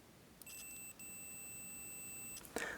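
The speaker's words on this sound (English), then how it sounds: "you will hear an audible alarm" A multimeter's continuity tester gives a steady high-pitched electronic beep that holds for about two seconds, with a brief dropout near the start, then a short click follows.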